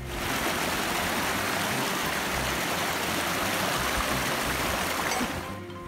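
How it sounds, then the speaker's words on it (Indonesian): A river stream on the Mount Rinjani trail in Indonesia rushes steadily, a dense, continuous broadband wash of flowing water, close and loud, with no voices. "Kita juga akan melewati sungai."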